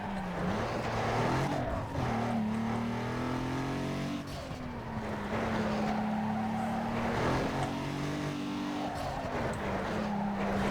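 A race car in the video game Need for Speed Underground 2 brakes and slides, its engine droning and shifting pitch under scrubbing tire noise, loud and continuous throughout.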